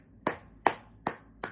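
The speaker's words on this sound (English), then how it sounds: "It's the women in the movie I need to give a round of applause to" Four slow, single hand claps, evenly spaced and close, each sharp with a short decay, alone in a quiet room.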